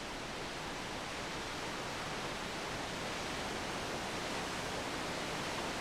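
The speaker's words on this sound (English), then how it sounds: "At 133 meters, it is by far the highest waterfall in Japan." Nachi Falls in Japan, a 133-meter waterfall, gives a steady, uniform broadband roar of falling water, faint and unbroken throughout, with no voices.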